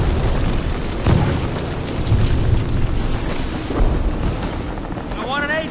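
In the Call of Duty video game, explosives detonate amid wartime combat, a dense continuous roar of booms and rumbling blasts with a shouted voice breaking through near the end.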